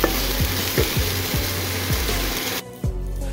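Onions fry with a steady broadband sizzle while a spatula stirs them for paneer tikka masala, its scraping strokes landing roughly every half second before the frying briefly cuts off near the end.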